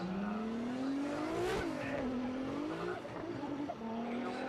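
Toyota 86 drift car, number 938, in Formula Drift Japan qualifying at Fuji Speedway, its engine revving high and wavering as it swings sideways, with a sharp burst around the initiation and tire noise underneath.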